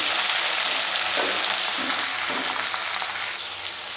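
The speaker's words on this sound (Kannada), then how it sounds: "ಇದು ಟೊಮೆಟೊ ಫ್ರೈ ಆಗಲಿ" Chopped tomatoes frying with onions in a pan, a loud, dense, continuous sizzle close up with faint stirring scrapes, no voices.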